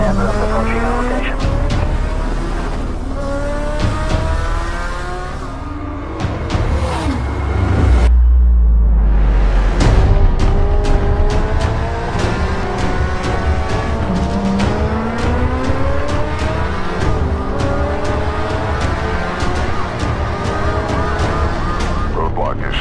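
Police car chase in a video game set in Abu Dhabi, with engines revving loudly, repeated tire squeals and a siren, while a radio-style voice talks over the action.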